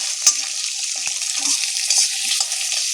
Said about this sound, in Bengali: দিয়ে দিচ্ছি কেটে ধুয়ে রাখা আলুগুলো একটু হালকা করে একটু ভেজে নেব, আঁচটাকে মিডিয়ামে দিয়ে